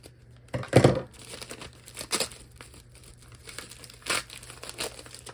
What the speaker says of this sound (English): Let me just cut this open.